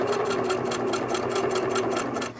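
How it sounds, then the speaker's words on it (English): Close, continuous whir of a sewing machine stitching steadily around a quilt border, with a fast even rhythm and no voices. "We've now sewn the whole way around the border."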